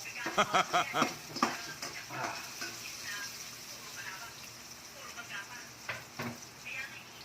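Onion sautéing in a pan after garlic for Bicolano pancit bato, giving a soft crackling sizzle with scraping stir strokes near the start, fairly quiet overall.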